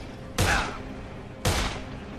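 Two sharp gunshots from the zombie game Dead Island, about a second apart, each a loud crack with a short decaying tail over a steady background hum.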